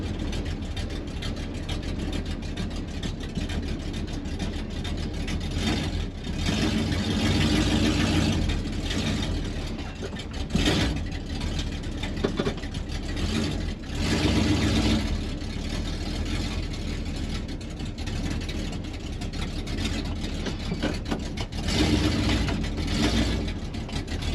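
A 1972 Plymouth with a big-block 383 V8 rumbles steadily while driving, a loud, continuous engine drone with rising and falling revs, mechanical rattles and clatter throughout, and no talk over it.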